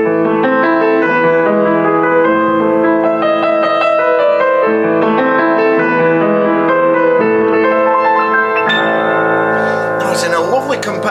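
A used Collard & Collard upright piano in mahogany, with 85 keys, played alone, chords and melody ringing clearly at close range, ending with a brief burst of higher notes and noise.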